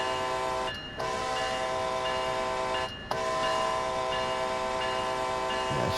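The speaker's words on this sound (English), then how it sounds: "There we go, the horn's back." Amtrak ACS64 locomotive horn in Train Sim World 2, a loud sustained multi-tone blast held for several seconds with two brief dips, close and steady, no talking.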